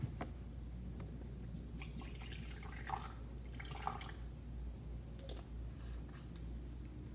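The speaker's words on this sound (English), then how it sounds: "pour about 50 to 60 mils into your measuring device" Hazel Rose toner is poured from a bulk refill into a measuring device, a faint, steady liquid trickle with small drips under a constant low hum.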